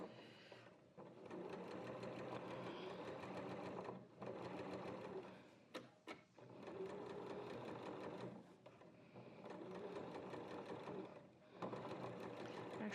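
A home sewing machine runs steady stitching rows on a back yoke piece of watermelon-print fabric, a close, continuous rapid mechanical whir broken by brief pauses and a couple of clicks.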